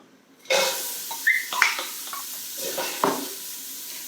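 Onions dropped into a soup pot heated to medium on the stove without oil, a sudden sizzle that flares up then settles into a quieter crackle with a few stirring scrapes.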